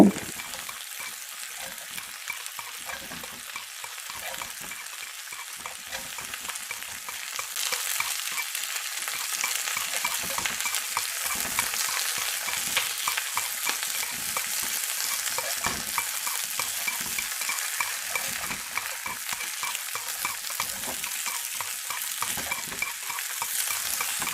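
Chicken pieces sizzle steadily in a pan, with a dense, continuous hiss that grows louder partway through as they are turned, with scraping and stirring scattered throughout.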